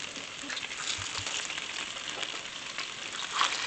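Chicken flautas packed tightly in a pot of hot oil give off a soft, steady frying hiss with faint crackles, fairly quiet and continuous, with no talking over it.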